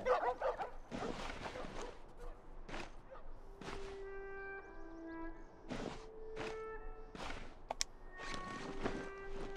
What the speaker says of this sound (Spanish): Sí, había perros en este juego